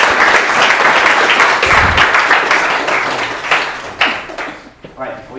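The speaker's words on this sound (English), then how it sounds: "big clap, and you stop there," A conference audience at an AI winter school gives one big, dense burst of clapping that thins out and stops within a few seconds, with some voices mixed in near the end.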